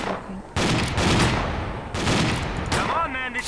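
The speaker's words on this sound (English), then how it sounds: "They're shooting each other." Gunfire exchange in S.T.A.L.K.E.R.: Clear Sky, loud bursts of rapid shots in two main volleys with brief gaps between them, and a voice speaking near the end.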